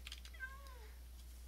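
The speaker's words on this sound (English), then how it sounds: "Next is the Siamese cat, and this is the other original Minecraft cat." A single faint, short meow from a Siamese cat in the Minecraft video game, with soft keyboard clicks around it.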